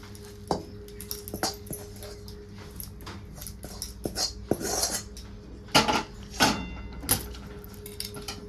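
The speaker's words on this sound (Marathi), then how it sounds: "तर आता मी एका प्लेटमध्ये ह्याला काढून घेते" A ghee-greased plate takes a hot coconut mixture scraped from a pan. Scattered clinks and scrapes of metal utensils against dishes come at close range, irregular and fairly quiet, with a faint background whine.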